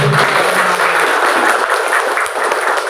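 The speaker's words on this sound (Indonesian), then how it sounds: "Tepuk tangan." Crowd applause at a vocational high school (SMK Sunan Giri) gathering, dense continuous clapping from many people filling the whole stretch at a steady, fairly loud level.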